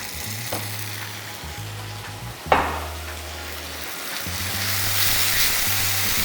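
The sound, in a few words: water added to sizzling egg curry masala in pan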